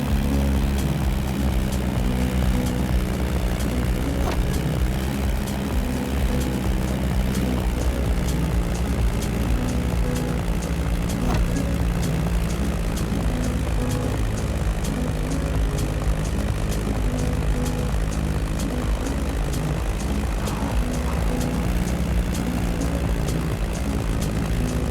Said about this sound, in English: That Beechcraft Staggerwing is truly a beautiful piece, isn't it? And a great choice for that flight.